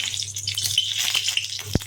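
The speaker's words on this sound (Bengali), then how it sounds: "কড়াইয়ে তেল দিয়ে দিয়েছি, শুকনো লঙ্কা দিয়ে দিচ্ছি। শুকনো লঙ্কা ভেজে নেব।" Dried red chillies frying in hot oil in a wok give a steady, close crackling sizzle, with a short utensil knock near the end.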